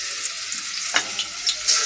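Garlic cloves sizzle and crackle steadily in hot olive oil in a pressure cooker, a close, continuous frying hiss with a few louder pops, no voices present.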